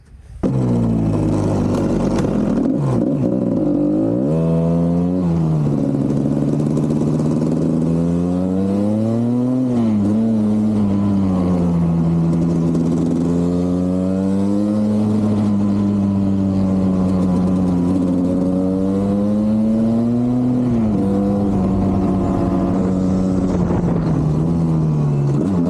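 An old, previously blown KTM 250 GS motorcycle engine runs loud and close during a ride, its pitch rising and falling as the throttle opens and eases off through several revving swells.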